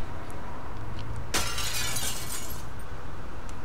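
Glass shatters in the Shadowrun Chronicles video game, one sharp crash followed by a bright, scattering tinkle that fades over about a second, with a low steady game hum underneath.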